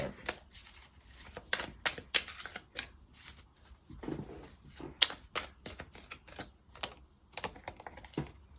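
Oracle cards riffle and slap together in a close, irregular series of crisp bursts and flicks, with brief pauses between handfuls and no talking.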